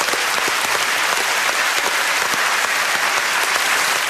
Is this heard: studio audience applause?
yes